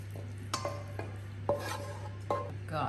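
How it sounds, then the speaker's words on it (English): Mince beef with caramelized onions and cabbage is stirred in a pan over barely any heat: a few separate, quiet scraping strokes of a utensil against the pan, spaced about a second apart, with no talking. "I'm not trying to cook it through, I'm just trying to mix it through thoroughly."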